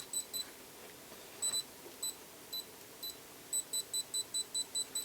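A Greenlee DM830A multimeter in non-contact voltage mode gives off high, thin beeps held close by. They come irregularly at first, then speed up into a steady run of quick pulses. The beeps are fairly faint over quiet room noise.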